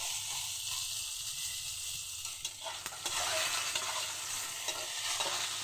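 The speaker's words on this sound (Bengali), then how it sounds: "দেখো সিমটা ভাজা হয়ে এসেছে" Flat beans frying in oil in a wok, a dense continuous sizzle with soft stirring scrapes, close and steady with no voices.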